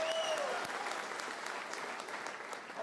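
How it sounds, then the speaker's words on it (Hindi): An audience at a motivational speech event bursts into sustained clapping that fills the hall, steady and fairly loud, with a brief whistle at the start. "तालियां अपने लिए बजाओ।"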